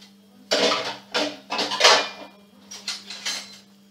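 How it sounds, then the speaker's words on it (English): A spoon stirs a strawberry, pawpaw and milk smoothie, giving a series of clinking, scraping strokes against the container in an uneven rhythm, close and moderately loud over a steady low hum. "So I'll mix it very well with a spoon"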